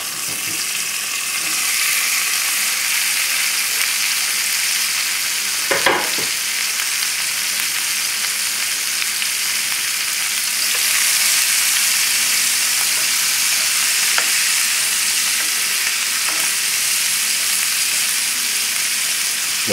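Celery, red pepper and bay leaves sweat in a hot pan, a steady close sizzle running throughout, with a brief scrape of stirring partway through.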